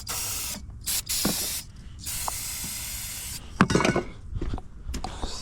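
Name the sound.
spraying starter fluid into an engine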